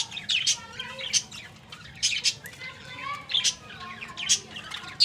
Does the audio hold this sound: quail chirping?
yes